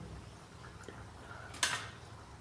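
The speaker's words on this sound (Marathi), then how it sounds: "प्लेटमध्ये टाकल्यानंतर असा कडक असा आवाज येतो" Crispy fried semolina and potato snacks drop onto a plate, making one sharp, hard clatter partway through against a quiet background, with no talking.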